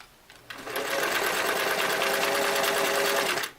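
A restored Singer Model 337 sewing machine runs straight through four layers of denim in one loud, close, steady mechanical whir lasting about three seconds, then stops abruptly.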